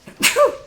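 A single sharp sneeze, close and fairly loud, with a quick intake followed by a bright burst, heard alone.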